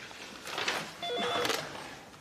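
A telephone rings in an office, its electronic tone repeating in short bursts over a soft background hiss, with no talking during the ring.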